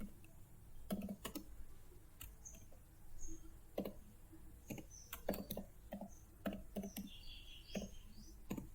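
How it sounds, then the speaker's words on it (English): Keystrokes on a computer keyboard while Java code is typed, sounding as quiet, irregular clicks and short bursts of taps with pauses between, close by in a hushed room. "Then I'm going to type the entire Java code."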